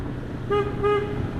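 A Denali mini Sound Bomb horn on a Honda NX500 motorcycle gives two short, close honks in quick succession over a low engine idle.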